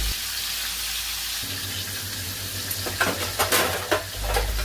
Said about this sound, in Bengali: মাছগুলো ভাজার জন্য দিয়েছি